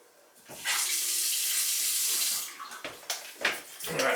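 Water gushes through a repaired tub shower valve in a bathroom, a loud hissing rush that starts abruptly, holds steady, then breaks into a few short spurts as it is turned on and off.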